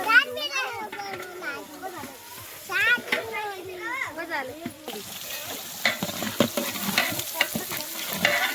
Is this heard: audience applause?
no